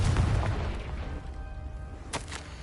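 A Confringo blasting spell explodes in the Hogwarts Legacy video game, a loud booming burst with heavy low rumble that fades over a couple of seconds, followed by a couple of sharper cracks, no speech.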